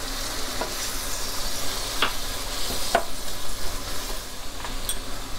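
Orange juice poured into a hot pan for apple strudel filling, a steady sizzle and bubbling with light stirring scrapes and a few soft clinks, close and continuous with no talking.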